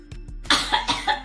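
A person with a cold and a sore throat lets out a quick run of harsh coughs, close and loud, after a couple of faint lighter sounds.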